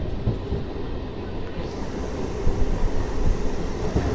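A MEMU express train runs between stations, a continuous low rumble with rattling carriages and occasional louder wheel knocks, heard from inside at steady volume.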